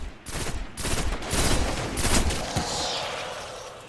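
Pulse rifle bursts in the Destiny shooter: several rapid volleys of loud, close gunfire with sharp repeated cracks, followed by a fading ringing tail and no talking.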